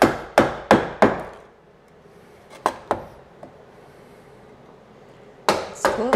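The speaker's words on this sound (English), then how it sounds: "I'm just going to chisel them." A chisel is struck with a mallet while cutting wood for a sculptural box, giving sharp, close knocks in quick bursts of three or four, separated by quiet pauses.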